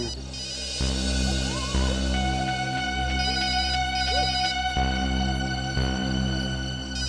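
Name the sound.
phone ringing inside locked room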